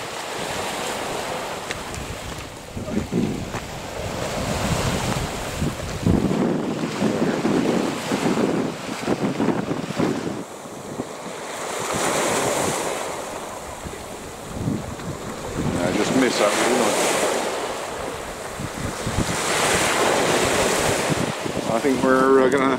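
Sea waves washing onto a rocky shore as the tide comes in, a surging roar that swells and recedes in broad pulses, heavily buffeted by wind noise on the microphone.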